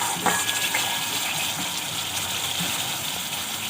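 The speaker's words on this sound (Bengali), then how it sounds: "এখন আমি জল দিয়ে দেবো" Water pours into a pan of poppy seed curry for a Bengali potol posto, a steady loud gushing splash that runs unbroken throughout.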